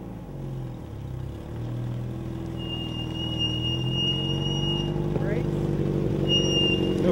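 An old truck engine runs steadily after sitting unused for years, a low continuous rumble with a high squeal on top and people talking over it.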